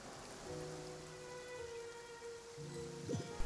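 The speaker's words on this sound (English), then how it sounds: "It's been raining non-stop for a few days now." Steady rain falls in the Genshin Impact game world, a continuous soft patter over a surface with faint tonal background music running beneath it, no voices.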